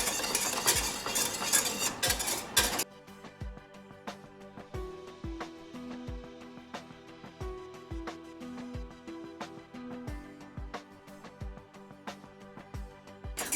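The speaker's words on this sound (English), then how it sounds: "Just continuously whisk the sauce." Honey lemon sauce being whisked in a pan, with a quick burst of sizzle at first, then faint repeated clinks and taps of a whisk against metal in a loose rhythm.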